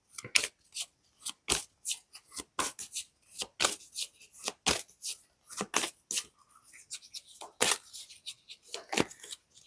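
Oracle cards are shuffled and drawn by hand, giving a quick irregular series of crisp, dry riffling flicks and snaps, close and fairly quiet with no voice.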